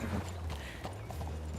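Horse hooves clip-clop at a steady walking pace on a trail in the video game Red Dead Redemption 2, close and continuous over a low rumbling ambient bed, with no voices.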